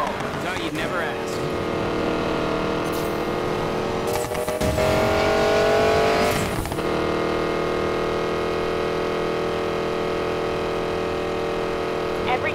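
A racing car engine in Need for Speed Payback roars close and loud with steady high revs. The revs surge sharply twice as it pushes hard down an open stretch of road, and no one speaks.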